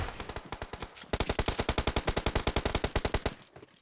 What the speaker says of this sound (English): Sauron with a legendary snipe on that third party attempt as Godzu makes a push into the building.